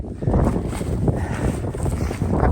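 Strong, steady wind roars and buffets the microphone on open, treeless snowy flats during freezing rain while snowshoeing, a loud continuous low rumble with gusty swells and no voices.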